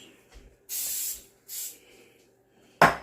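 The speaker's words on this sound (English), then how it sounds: "I sprayed some what's the name on here so it can be easier to remove, to get up. Just some coconut oil." Coconut oil sprayed from a can onto a pan for chocolate fudge, heard as two short close hissing bursts, a longer one and then a shorter one, followed by a sharp louder burst at the end.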